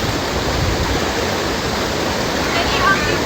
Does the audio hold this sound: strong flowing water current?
yes